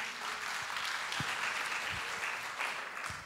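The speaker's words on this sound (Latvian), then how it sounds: "Lūdzu, ar aplausiem." Audience applause at a rural communities parliament in Latvia welcoming the next speaker: moderate, even clapping from a seated crowd, somewhat distant, with a few sharper individual claps standing out.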